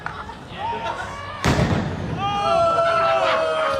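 Fireworks go off in a played video, with a sudden loud blast midway followed by crackling and whistling trails, while several people talk and react over the playback.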